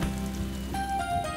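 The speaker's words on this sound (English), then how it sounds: "And it was just in time, because it started to rain." Steady cartoon rain falls in a soft, even patter, with a faint tonal hum running underneath and no talking.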